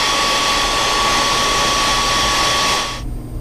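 A heat gun blows hot air to set fresh spray paint on a neon sushi spray art piece: a loud, steady roaring hiss held close that cuts off abruptly near the end.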